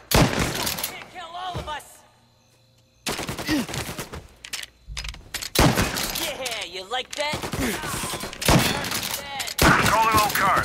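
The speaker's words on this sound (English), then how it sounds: "Reports of gunshots rolling in." Bursts of automatic gunfire in Mafia Definitive Edition on PS5, rapid rattling volleys separated by brief pauses, with shouted voices over the shooting.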